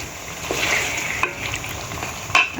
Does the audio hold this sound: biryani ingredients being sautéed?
yes